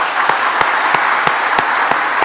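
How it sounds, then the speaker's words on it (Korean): A church congregation at a Sunday worship service applauds together, producing a dense, even wash of clapping with a few sharper, louder claps standing out at regular intervals, no talking over it. "하나님 감사합니다 하고 박수 한번 쳐드립니다."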